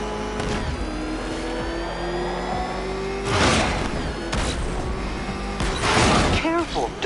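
A car engine revs and roars in Batman Arkham Knight, the sound loud and steady with surges of acceleration, mixed with impacts and other game noise while a voice speaks over it.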